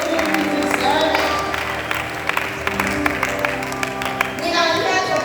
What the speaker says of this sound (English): Please clap for yourself. Clap for yourself. Please clap.